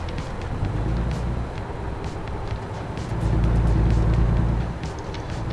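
American Truck Simulator highway driving, with a steady, loud truck engine drone and road rumble that swells midway as surrounding traffic passes.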